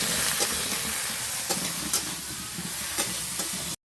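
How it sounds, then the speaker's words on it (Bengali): Ridge gourd pieces stirred in a hot pan with salt and turmeric, giving a loud, continuous close-up sizzle with periodic scraping strokes of the spatula before it cuts off. "এবার হালকা করে লবণ দিয়ে দিচ্ছি ঝিঙের উপরে, হালকা করে হলুদের গুঁড়ো দিয়ে দিচ্ছি, দিয়ে একটু ভালো করে নেড়ে চেড়ে"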